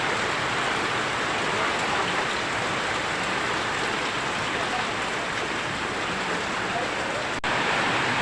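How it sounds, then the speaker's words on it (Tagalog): Heavy rain pours down in a dense, unbroken hiss during flooding, loud and constant throughout. "Walang humpay para ng ulan."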